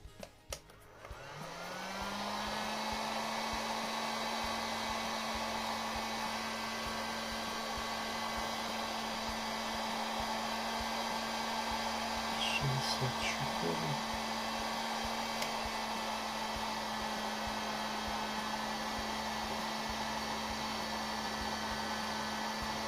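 An industrial TITAN heat gun, once repaired for a broken heating coil, spins up after a second and then runs with a loud, steady blowing roar and a constant whine for over twenty seconds, with no talk.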